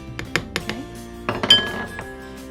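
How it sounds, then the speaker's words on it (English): Eggs, milk and flour for crepe batter are whisked in a bowl, producing quick close clinks and taps of the whisk against the bowl, fairly loud with no talking. "whip all the eggs first"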